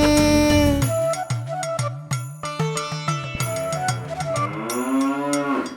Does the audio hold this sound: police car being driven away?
no